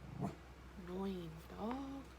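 An indoor dog gives two drawn-out, wavering whines close by, each rising and falling in pitch, after a brief sound at the start.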